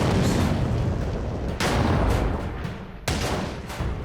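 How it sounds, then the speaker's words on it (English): 88mm anti-aircraft guns firing in a defensive line at advancing Matilda tanks in a WWII battle, a dense roar of heavy gunfire with two sharp, loud blasts breaking through, no talk. "Rommel deploys his 88mm anti-aircraft guns in a defensive line and orders them to fire at the advancing Matildas"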